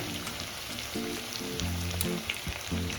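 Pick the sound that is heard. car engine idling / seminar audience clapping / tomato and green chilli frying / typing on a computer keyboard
tomato and green chilli frying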